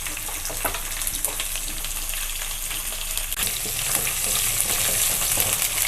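Chopped small onions (shallots) fry in hot oil for a kadai gravy, giving a loud, dense and continuous sizzle with crackling and stirring that grows slightly more intense partway through, heard close up with no speech.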